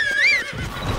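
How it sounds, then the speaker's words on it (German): A horse in Zelda: Breath of the Wild gives a loud, close whinny with a rising-and-falling pitch, followed by a brief soft clatter of hooves. "So, hier ist unser Pferd."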